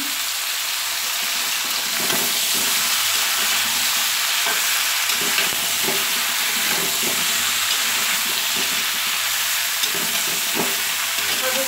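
Sweet mango pickle mixture with jaggery and turmeric frying lightly in a pan, a steady loud sizzle and hiss with occasional stirring scrapes, no voices.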